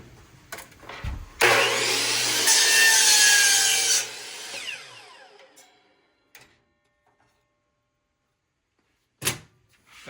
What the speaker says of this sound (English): I connected the DeWalt miter saw to the power station.